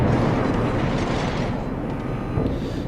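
Warship guns firing in World of Warships, a dense, rumbling barrage of heavy booms that rolls continuously and loudly at close range, slowly easing off.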